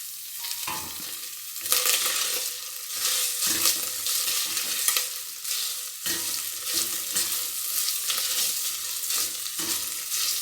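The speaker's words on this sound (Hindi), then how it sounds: "और इसे थोड़ा सा फ्राई करूंगी।" Finely chopped carrots sizzle in a pan while being fried for chicken soup, a steady bright hiss broken by repeated scraping stirs close by.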